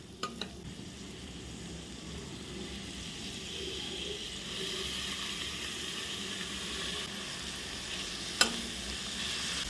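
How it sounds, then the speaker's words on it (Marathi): Finely chopped fenugreek leaves and onion sautéing in a pan, a steady soft sizzle with a couple of clinks of a spoon or lid, close and alone. "आता ही मेथी पण आपण परतून घेऊया"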